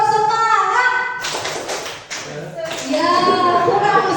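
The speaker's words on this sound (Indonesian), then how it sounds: "kita bersama-sama untuk bertepuk semangat" A group of Indonesian teachers doing the rhythmic tepuk semangat spirit clap, loud close patterned claps in bursts under and between voices, with people talking and calling out during it.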